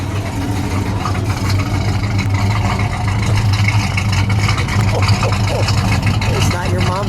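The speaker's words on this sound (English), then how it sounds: "Let me get a little exhaust now." A 1961 AMC Rambler Classic four-door fitted with an engine from a 1971 Pontiac Grand Prix idles close by, its exhaust giving a steady low rumble under faint voices.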